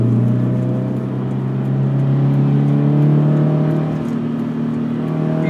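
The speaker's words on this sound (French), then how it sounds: "T'en as un char à côté." A car on a race track during a driving course, its engine a loud, steady drone that climbs slowly in pitch as it runs close by for several seconds.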